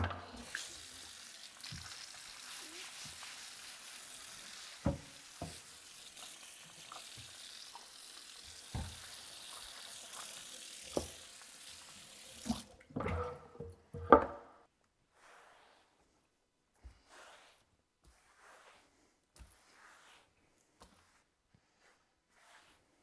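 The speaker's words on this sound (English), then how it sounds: "let me take a minute to wash this cutting board" A cutting board is rinsed under running water at a kitchen sink, with a steady hiss of flowing water, scattered knocks and clatters, then the tap shuts off, leaving quiet with faint occasional taps.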